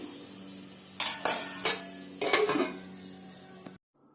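Utensil noises from a biryani masala being stirred in a pot, then a lid going on: three bursts of scraping and clinking against a steady low hum. The sounds are close and moderately loud, with no talking, and they end in a sudden cutoff.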